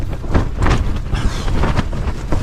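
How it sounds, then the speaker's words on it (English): Strong wind gusts buffet a campsite on high ground above Langdale in horrendous weather, loud and surging in repeated blasts that roar against the microphone, with no talking. "It really is gusting strong now."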